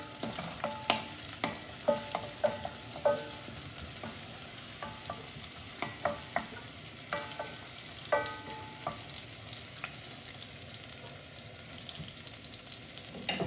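Thinly sliced garlic frying in a pan for a spinach and potato curry, a constant soft sizzle broken by repeated stirring taps and scrapes, close up with no voices.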